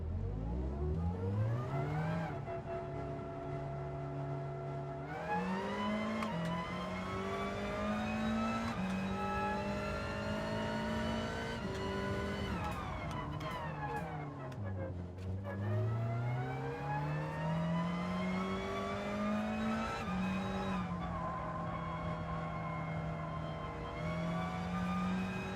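A race car in the video game Gran Turismo 7 roars through gear after gear, engine pitch climbing and dropping as it accelerates and lifts on track; no clear tyre skid stands out in the continuous drone.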